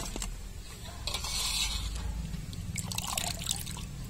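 Water dribbling and trickling off freshly washed fish beside a river in a village, a close, steady flow with scattered drips and no speech.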